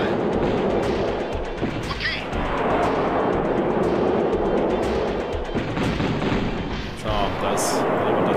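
Dense, continuous booming cannon fire and explosions rumble throughout, a chaotic barrage of battle sounds from the 1997 strategy game KKnD, with a German-speaking voice faintly mixed in.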